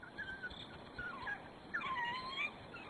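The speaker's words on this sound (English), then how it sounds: "And the yelps that smell elicits cue a ready response from them to regurgitate their meal." An African wild dog pack of about seventeen animals yelps and whimpers, high thin cries rising and falling in several overlapping calls at moderate distance, fairly faint with no talk.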